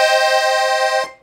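Treble side of a red Parrot Flamingo 32-bass accordion on its single musette setting with two middle reeds, a bright, wavering chord held steady for about a second and then cut off, played alone.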